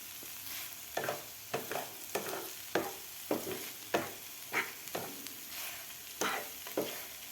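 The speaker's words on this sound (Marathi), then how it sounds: "व्यवस्थित आपल्याला परतून घ्यायचं आहे" Egg bhurji with coriander is stir-fried in a pan, a quiet sizzle punctuated by a regular series of spatula scrapes and taps roughly every half second, close and alone.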